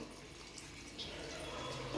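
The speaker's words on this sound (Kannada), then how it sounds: "ಅರ್ಧ ಗ್ಲಾಸಷ್ಟು ನೀರು ಹಾಕ್ಕೊತಾ ಇದ್ದೀನಿ." A short burst of water splashing and pouring into a pan of brinjal curry, about half a glass, steady and close, with no voices.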